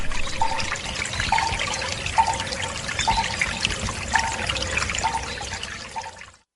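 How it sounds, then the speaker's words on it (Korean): Gentle water trickles and babbles continuously as background audio in a Korean radio advertisement. Soft, regularly spaced tonal knocks repeat over the flowing water before it fades out. "아주 광고의 이 물소리가 네."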